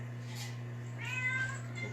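A cat meows with strained, wavering tones around the middle of the moment, close by, over a steady low electrical hum.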